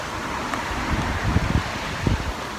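Wind gusts and rain patter under trees and bushes beside Driffield Canal, a steady broadband rush with scattered low thumps from gusts buffeting the microphone, no voices.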